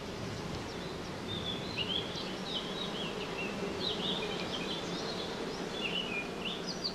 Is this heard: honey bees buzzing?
yes